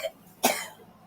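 A single sharp human cough, close and fairly loud, with a brief trailing rasp and quiet room tone around it.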